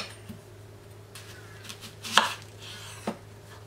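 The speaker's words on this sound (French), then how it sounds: "Nous allons émincer nos oignons pour réaliser le confit d'oignons." A knife chopping through onions on a cutting board, with a few scattered cuts, one sharp strike in the middle and a softer one later, close and fairly quiet.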